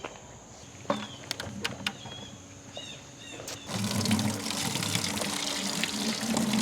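Tap water runs steadily into a container for a sick chicken's treatment, a continuous broadband rush starting partway through after a few clinks and handling knocks, fairly close and with no talk over it.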